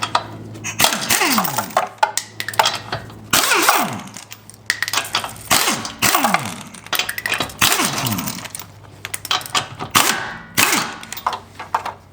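The front wheel of a Honda Civic comes off during a brake pad job, with a fast series of sharp metallic clanks, knocks and rattles. The sounds are close and loud, repeated in irregular bursts with short gaps.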